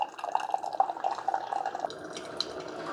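Amazon Basics compact K-Cup coffee maker brewing hot coffee into a cup: a steady close trickle and patter of liquid falling into the cup, continuous with rapid drips and no talk.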